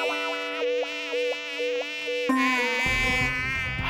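A buzzing mosquito produces a high, whining drone in a cartoon. The pitch wavers up and down in short pulses before the sound shifts to a rougher, lower buzz. It is loud and close and stands alone without talk.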